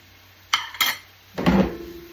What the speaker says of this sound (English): Let that turn over a little. Let that saute up a bit.